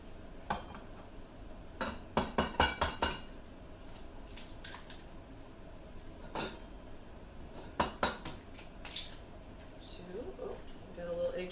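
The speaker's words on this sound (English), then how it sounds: "We're going to do eggs next, which are going to go in here." Eggs cracked against a bowl while setting up a breading station for chicken parmesan, a few sharp taps and clinks in quick clusters with ceramic and utensil clatter, close by, while a person talks.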